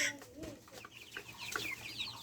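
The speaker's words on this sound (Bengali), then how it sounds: "আমি আমার ফার্মি মুরগির খামারে এসেছি।" Broiler chickens, forty days old, cluck and chirp softly on a poultry farm, a busy overlapping chorus of short calls at moderate distance with no voices.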